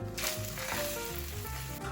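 Hissing sizzle of food frying in a pan greased with olive oil, steady and close, with faint clinking over the crackle.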